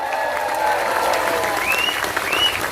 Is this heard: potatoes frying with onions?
no